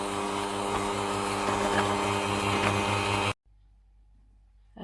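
An electric mixer beats nastar pastry dough with a steady, loud whirring drone that runs for about three seconds and then cuts off abruptly, leaving near silence.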